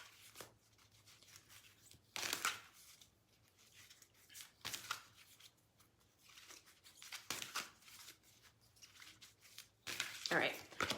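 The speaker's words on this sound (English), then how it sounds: "I'm shuffling." Repeated papery riffling bursts of tarot cards being shuffled, coming in short rhythmic flurries, close up, with quiet room tone between them.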